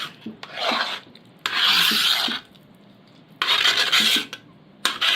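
Jackfruit paste being mixed with cardamom and ginger powder in a heavy pot, heard as three or four loud raspy scraping strokes of a spoon against the metal, separated by short pauses.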